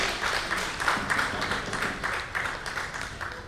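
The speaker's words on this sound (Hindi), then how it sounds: "तो अपने आप में तालियां बजाइए" Steady applause from a crowd, many hands clapping continuously throughout with no pauses, fairly close and even in loudness.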